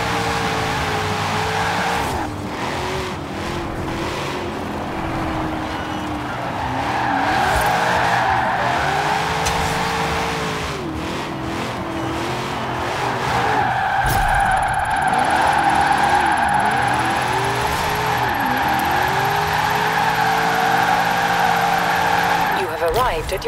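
A 2020 Corvette Stingray C8 on a rear-wheel-drive drift tune in Forza Horizon 4 drifts with a steady engine roar and long, sustained tire squeals. It stays loud and continuous throughout, with pitch swells as the revs rise and fall.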